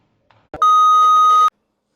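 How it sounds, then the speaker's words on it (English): A phone gives a single sustained electronic beep lasting about a second, loud and steady with a bright tone, preceded by a brief soft click. "That was my phone calling."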